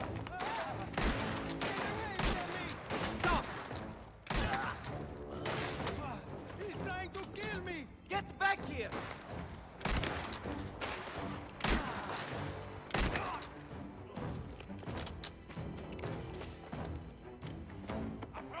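Rapid bursts of gunfire in the video game Mafia: The Old Country, dense overlapping shots and thuds rattling on and off throughout, loud and close, with occasional talk mixed in.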